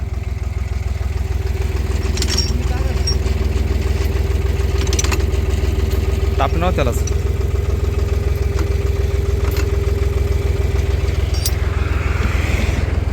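The diesel engine of an Arjun Novo 605 4WD tractor with a hydraulic problem idles loudly and steadily throughout, a low continuous chugging rumble close by, with brief faint words spoken over it.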